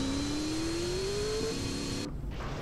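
A car drives in the video game GTA San Andreas with a steady engine drone whose pitch climbs gradually, then the sound cuts off abruptly near the end.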